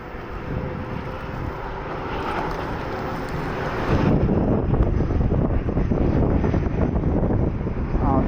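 A fixed-wing airplane passing overhead near the Washington Monument, a broad steady roar under wind buffeting on the microphone that grows louder midway through, no talk.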